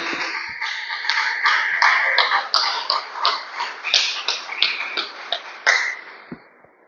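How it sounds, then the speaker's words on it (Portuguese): A church congregation claps together in sustained, rhythmic applause for several seconds, loud and reverberant, with the pulsing claps gradually fading out at the end. "dando uma salva de palmas para Jesus com alegria"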